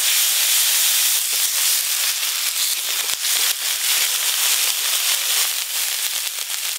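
Ginger paste and turmeric powder sizzling in hot mustard oil in a pan, a steady loud crackling hiss with scattered pops, close and continuous with no talk.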